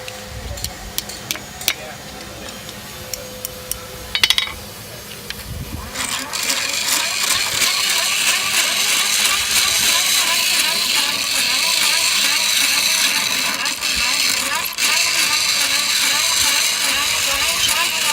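An angle grinder works over a hand-forged metal leaf, starting after a few taps and a brief burst, then running as a steady, loud broadband whine and grind for the rest of the span.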